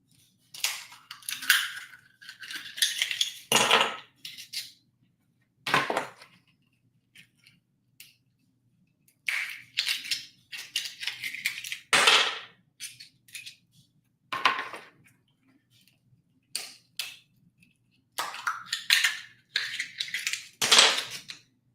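An oyster knife prying and shucking oysters against the clock, sharp clicking cracks and scraping crunches of shell in rapid irregular bursts, close and dry with short pauses between oysters.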